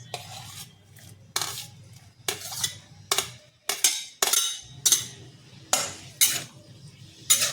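Repeated bursts of clattering and scraping as onion is stirred into hot oil in a pan, with a low background hum and no talking.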